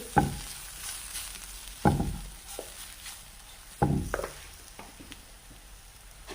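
Spoon stirring a spiced garam masala mixture in a pan, three or four distinct scraping strokes at a steady pace over a soft continuous sizzle of frying.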